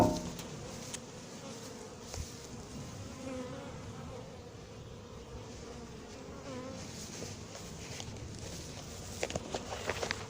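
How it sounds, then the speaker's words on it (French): Honeybees swarm around a beehive in Montgeron, a dense continuous buzz close to the ear with individual bees zipping past, plus faint rustling and occasional small knocks. "Ah, les abeilles attaquent tout de suite."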